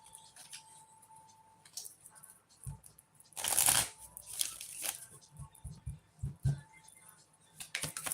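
Tarot cards being shuffled by hand, giving a burst of riffling near the middle followed by scattered soft card taps and flicks, close by, with a brief voice in the background.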